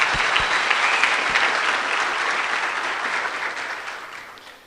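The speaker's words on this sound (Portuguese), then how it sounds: "Uma salva de palmas." A room full of people breaks into applause at an early Sunday talk on content creation, dense clapping starting strong after a few sharp claps and gradually tapering off.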